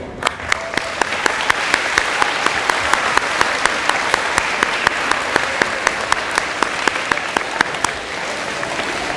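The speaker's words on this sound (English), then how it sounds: "I want to give a round of applause to our teachers for leading this wonderful ceremony today" Sustained audience applause for teachers at a June 2023 awards ceremony, dense steady clapping filling the whole stretch at an even, fairly loud level.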